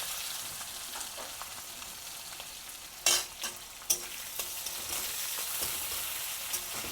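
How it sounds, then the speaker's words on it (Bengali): Sliced onions fry with whole cumin in a pan, a steady, close sizzling hiss with a few sharp scrapes and knocks of stirring around the middle and no voices. "পেঁয়াজটা ভালো করে লাল লাল করে ভেজে নেব"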